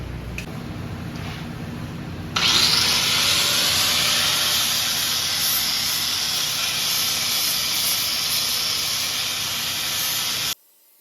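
An angle grinder grinds steadily on a Ford 8.8 rear end housing being narrowed for a 1963 Lark. A continuous loud, hissing grind begins after a quieter stretch and holds evenly until it cuts off abruptly near the end.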